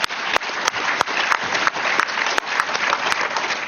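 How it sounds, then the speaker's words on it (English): Audience applause at a talk on racism, a dense, steady burst of many hands clapping, loud and close, with a few sharper claps popping out of the wash. "Oh, that was just a gimme applause."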